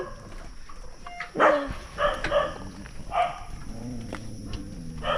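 A dog barks a few times at mid distance over a busy outdoor background with steady hum and scattered noise.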